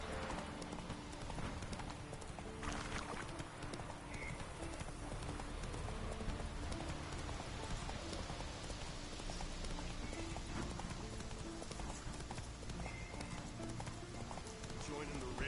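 Roach the horse gallops in The Witcher 3, a steady rhythmic drumming of hooves under game sound and someone talking over it, with a faint whinny in the mix.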